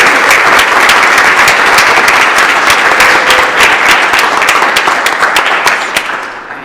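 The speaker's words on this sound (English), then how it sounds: "And yeah, so finally we can clap." Audience members at a conference session clap for the panelists, a full, close round of applause that holds steady before tapering off in the final moments.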